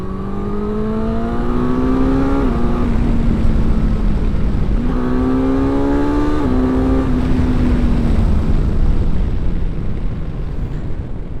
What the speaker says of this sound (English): let's get the GX through some corners here